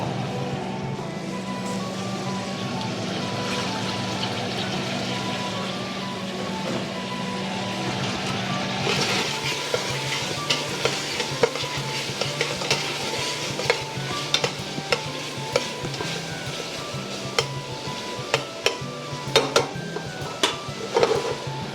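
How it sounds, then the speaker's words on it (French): Bacon and onions browning in a pot for an Irish porter stew, a loud continuous sizzle with a low hum underneath, then frequent scraping and clinking of a utensil against the pot in the second half. "Fait qu'on fait rôtir un peu notre bacon."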